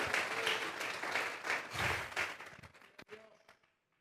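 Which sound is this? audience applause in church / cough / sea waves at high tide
audience applause in church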